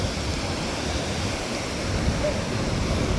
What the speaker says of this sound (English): Did you know it's so wavy that the poles here are even wet?